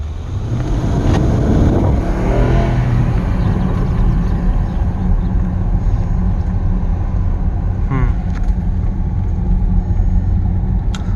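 A Mercedes-Benz engine runs steadily after a worn tensioner was replaced, a loud continuous close-up mechanical drone with a rough rumble throughout and brief higher whirring sounds near the start and later on.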